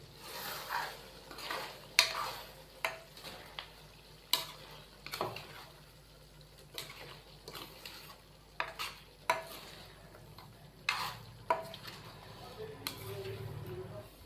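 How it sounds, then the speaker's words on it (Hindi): A spoon stirs black pepper chicken karahi in a pan, giving repeated soft scrapes and metallic clinks at an uneven rhythm over a faint sizzle, close and fairly quiet. "तो अच्छे से हमने इसको मिक्स कर दिया है।"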